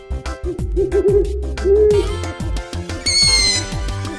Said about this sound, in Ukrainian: Полярна сова.